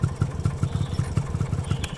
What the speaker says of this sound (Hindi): बाइक को फ्लैट की बिल्डिंग के नीचे पार्क किया